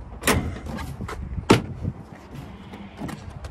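Rear seat in a 2024 Chevrolet Silverado EV RST being folded back up, giving two sharp clunks, one early and a louder one midway, with softer rustling and thumps between, close and without talk.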